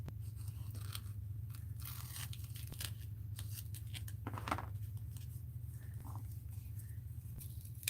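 Scissors snip through sticky material for a mixed-media art journal, with scattered soft cuts and crunches over a steady low hum.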